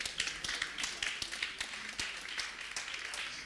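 An audience at a Nigerian innovation summit claps in a brisk, uneven patter of hand claps that carries on for several seconds at moderate level, with no talking over it.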